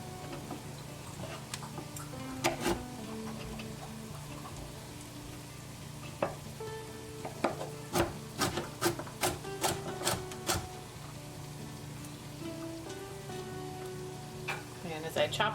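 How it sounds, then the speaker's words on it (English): A knife chops carrots on a cutting board in a run of sharp, evenly spaced taps, while onion and garlic sizzle softly in a pan beneath. "And as I chop them, I'm just going to toss them in"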